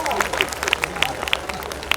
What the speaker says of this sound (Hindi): तालियां वालियां एक बार बजा दो